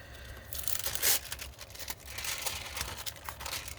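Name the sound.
crinkling foil being applied to a card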